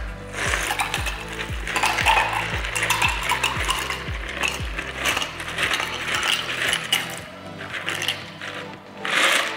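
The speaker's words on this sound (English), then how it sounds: "So now we're gonna add the ice." Ice cubes dropped into a glass for a Paloma cocktail, giving a close, steady run of clinks and rattles that shifts and settles for several seconds, with no voices.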